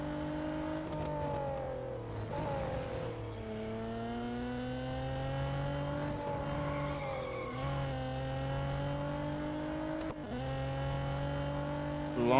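A race car engine drones and revs in Real Racing 3 on the short Nürburgring circuit, a steady high whine that rises and falls with gear changes and throttle lifts and carries on alone without any talking.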